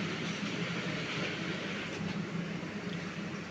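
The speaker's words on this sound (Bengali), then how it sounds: "এই যে ট্রেনটা ছেড়ে যাচ্ছে এখন" A train departs Khulna railway station, rumbling steadily nearby, a continuous broadband roar of rolling carriages with faint rhythmic rail clatter underneath.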